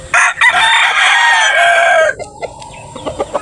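Backyard chickens: a rooster crows loudly and close for about two seconds, followed by a few short clucks from the hens.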